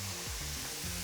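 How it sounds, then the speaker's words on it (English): Meat searing in a hot pan for a stir-fry, a steady close sizzle with a broad hiss running throughout, no voices over it. "It's all about this listening, this sizzling, right?"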